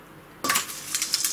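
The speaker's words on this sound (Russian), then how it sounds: "А теперь я буду насыпать ложкой" A metal spoon scoops orchid potting mix with bark chunks, a sudden scraping clatter followed by a few rattling shakes, close and fairly quiet.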